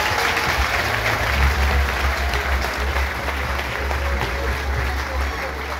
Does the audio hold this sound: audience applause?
yes